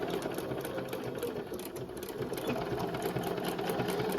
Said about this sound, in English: go in there and get a few more stitches done here